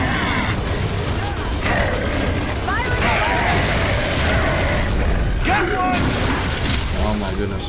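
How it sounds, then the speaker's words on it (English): A heavy weapon is blind-fired from cover in Gears of War 3, a dense, continuous roar of gunfire and impacts with a few sharper bursts, while someone talks over it. "Let's blind fire a little bit."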